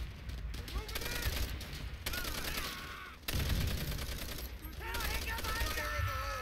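Bursts of rapid gunfire in Call of Duty: World at War crackle in dense volleys, interrupted by brief pauses, with voices talking over the shooting.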